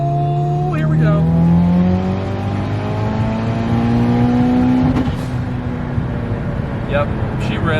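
Mitsubishi Lancer Evo 8 accelerating hard from inside the cabin, the engine note climbing steadily through the gears with a brief dip at each shift, loud and continuous.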